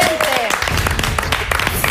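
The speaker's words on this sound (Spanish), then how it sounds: "Santo Tomás, un aplauso." Studio audience applauding on a Chilean morning TV show, a dense, steady wash of clapping lasting throughout at even loudness, with a brief tone at the start.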